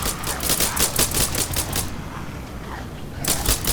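An AK rifle fires in rapid automatic bursts in a Roblox zombie shooter, a dense, loud, close rattle of shots that stops briefly and then resumes.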